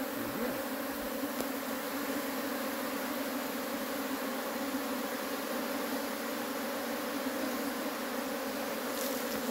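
Bees buzzing densely during a transfer of a hive into a standard box, a continuous close swarm hum with steady loudness throughout.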